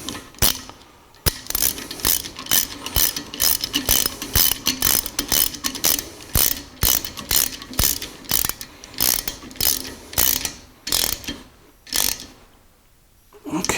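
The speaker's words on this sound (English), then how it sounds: "So as you wedge it in there, it tightens and tightens more" Ratchet wrench clicking in rapid bursts as a tapered pipe plug is tightened into an engine block for a 454 stroker build, close and distinct, with short pauses between strokes and a quiet stretch near the end.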